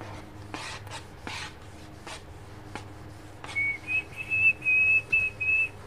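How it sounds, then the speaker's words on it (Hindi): A person whistles a sustained, wavering tune from about three and a half seconds on, fairly clear over quiet room noise and earlier soft rubbing or chalk-like scraping sounds during a chemistry class on aldehydes and ketones. "आपको सीटी बजानी आती है"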